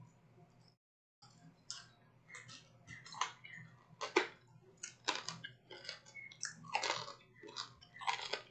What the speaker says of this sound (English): I know y'all hear me crunching over here.